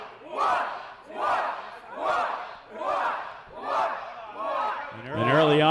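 A wrestling crowd at a Scars & Stripes 2021 event chants in a steady rhythmic pattern, rising and falling about once per second as massed voices, then swells into louder cheering at the end.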